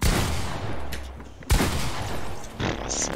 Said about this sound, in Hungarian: Egy figyelmeztető lövés fejre.